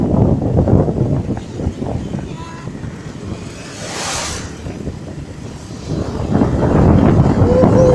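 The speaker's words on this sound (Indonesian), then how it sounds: "Angin kencang, bro." Strong wind buffets a microphone on a moving motorbike, a loud, continuous low roar that swells and eases, with a brief airy gust near the middle and heavy buffeting again toward the end.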